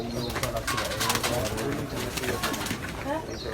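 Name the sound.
pigeons cooing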